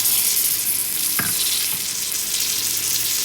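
Biryani base with cilantro leaves frying in a pot, a dense continuous sizzle with a single stirring scrape partway through and no talking.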